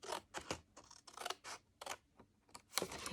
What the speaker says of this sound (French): Alors ça, vous pouvez le faire à l'aide de votre massicot ou sinon comme moi, avec votre paire de ciseaux.